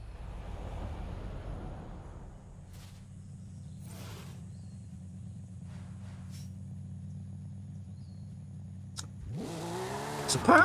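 A Singer-reimagined 1990 Porsche 911 in a video game, its engine holding a steady low idle drone with faint clicks before revving up sharply at the end.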